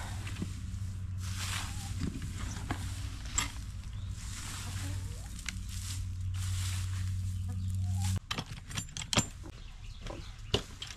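Chickens cluck softly in a vegetable garden among potato rows, with scattered rustling and footsteps nearby and a low engine hum behind that cuts out partway through.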